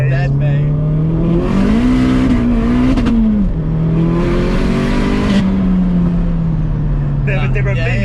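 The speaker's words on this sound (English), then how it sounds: "It's the sound, that screamer pipe is just unbeatable." A modified 552bhp Vauxhall Astra VXR with a screamer pipe revs hard and loud, the engine note climbing and dropping through gear changes with sharp wastegate chatter, heard from inside the car.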